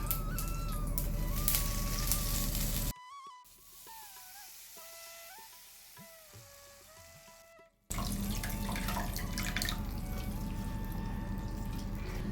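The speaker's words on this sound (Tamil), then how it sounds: "புளி ஜலத்தை விட்டுருவோம்." Tamarind water pouring into a pot of curry leaf kuzhambu, a steady liquid rush and splash with a quieter stretch midway before the pour resumes full and continuous.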